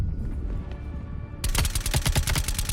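Automatic gunfire in Call of Duty: Black Ops Cold War cracks out in a rapid, loud burst of shots after a quieter stretch of game ambience.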